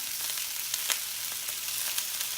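Onions sautéing in a pan give off a steady, soft crackling sizzle with scattered louder pops over about two seconds, and no voices are heard.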